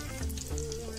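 Spice seeds sizzle in hot oil while cooking an onion-leaf vegetable dish, a steady close crackling fry with no talking.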